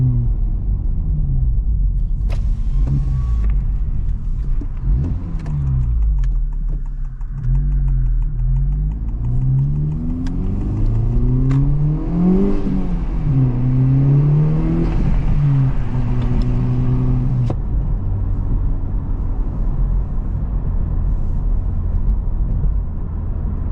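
Turbocharged engine of a Honda Civic FL5 Type R revving on a night drive, a loud, steady cabin rumble rising and falling through repeated acceleration sweeps and gear changes, heard alone without talk.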